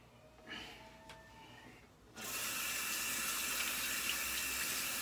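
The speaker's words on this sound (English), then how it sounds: "wash my hands of excess stuff" Tap water suddenly starts running and keeps pouring steadily for hands being washed of beeswax, loud and close after a couple of quiet seconds with small clicks.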